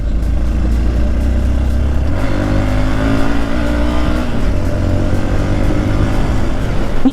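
A Hero X-Pulse motorcycle ridden along a dusty mountain road in Ladakh, its engine droning loud and close with a steady low rumble and a slight shift in pitch partway through.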